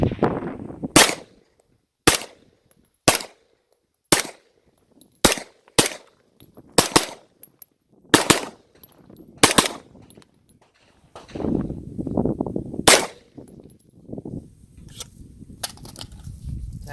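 Extar EP45 pistol firing rounds: a dozen or so sharp, loud shots at irregular intervals, separated by quiet gaps, with handling and rustling noise between the later shots.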